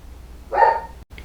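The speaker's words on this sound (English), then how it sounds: "My dog's gonna bark." A single dog bark sounds once from a household room, short and moderately loud, then fades to quiet.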